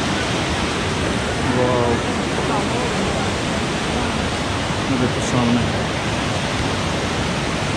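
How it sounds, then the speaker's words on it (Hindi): Cold, fast-flowing mountain stream at a bathing ghat on the Vaishno Devi route, a loud, continuous roaring rush throughout, with a man briefly exclaiming over it. "यहाँ पे वाटर स्ट्रीम है जो बहुत तेज बह रही है"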